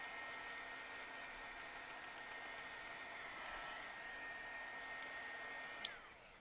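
A hair dryer blows steadily over wet watercolor paint, a constant whirring hiss with a faint tonal whine, then a brief click near the end as it shuts off.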